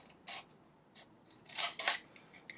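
Scissors snipping straight cuts through paper for a gingerbread house gift box, several crisp close snips in quick succession, with a pair of louder cuts near the end.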